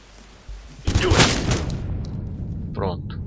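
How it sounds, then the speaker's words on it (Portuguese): Gunfire volley in the video game Ghost Recon: a burst of several near-simultaneous shots crackles loudly after a quiet moment, then fades into a softer tail with a brief voice. "a hora que eu der o tiro, todo mundo atira ao mesmo tempo"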